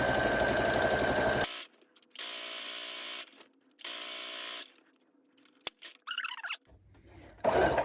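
A sewing machine stitches a viscose dress lining in several bursts of whirring motor, each lasting about a second. The bursts are separated by quiet pauses and a few faint handling clicks. It is close by and has no talk.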